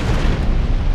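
Grenade explosion in the Warhammer 40K: Space Marine video game, a loud, dense, broadband boom filling the whole moment with rumbling low end.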